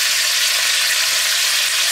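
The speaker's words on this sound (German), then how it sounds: "Erst einmal ordentlich das Fleisch anbraten" Meat searing in a Dutch oven for a Catalan stew, a steady, loud, close sizzle and hiss of frying that runs without a break and with no voices.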